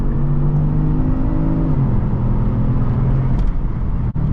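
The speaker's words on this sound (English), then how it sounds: "Now let's give it some gas. Excellent downshift from this 8-speed." A 2021 Kia Stinger GT1 AWD with an 8-speed automatic accelerates from inside the cabin, its engine droning steadily and loud, then the pitch drops as the transmission downshifts before climbing again, with no talking.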